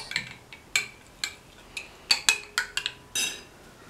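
A spoon clinks and scrapes against a bowl while chicken is mixed with turmeric powder and paste, about a dozen sharp metallic taps in an uneven rhythm, close and clear with no talk.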